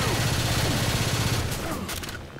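Sustained gunfire from several players shooting at the Tank in Left 4 Dead 2, a rapid rattling barrage for about two seconds that thins out at the end, with voices talking over it.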